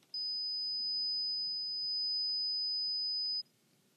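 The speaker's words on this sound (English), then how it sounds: "I have played you 3 different tones. Each one had a different musical height or a different pitch." A single high-pitched pure test tone sounds steadily for about three seconds, clean and constant at one pitch, then cuts off abruptly into near silence, with no voices.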